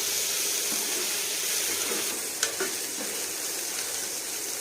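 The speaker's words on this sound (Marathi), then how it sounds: "याला सुद्धा आपल्याला व्यवस्थित फ्राय करून घ्यायचं आहे हे बघा आणि आता कांदा गोल्डन होऊन द्यायचं" Sliced onion frying in a pan for a Maharashtrian vangyache bharit (roasted eggplant dish), a steady close hiss of sizzling oil with faint stirring scrapes and a few small clicks, no voices.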